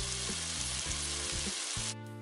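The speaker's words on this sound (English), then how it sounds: "I'm just gonna combine everything into this pan and mix it up." Vegetables and seasoning sizzle in a pan alongside tofu and rice as everything is stirred together, a close, steady hiss with soft scraping thumps of mixing, easing slightly near the end.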